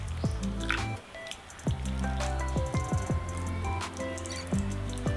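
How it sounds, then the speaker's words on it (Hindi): Spiced buttermilk poured over chicken pieces in a bowl, with wet squishing, dripping and splashing sounds that come close and clear in irregular bursts. "अब ये बटर मिल्क इस पर डालना है।"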